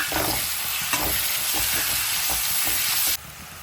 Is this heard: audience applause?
no